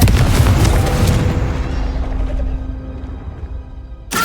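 A Confringo blasting spell from Hogwarts Legacy detonates loudly at the outset and then decays slowly into a low rumble with a lingering ringing tone. A second, smaller burst cuts in right at the end.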